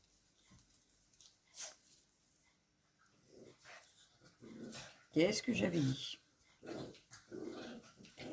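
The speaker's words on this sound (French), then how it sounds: "Oh, ils me fatiguent ces chiens." Dogs whimper, growl and give short barks in bursts at close range, mixed with someone speaking irritably between them.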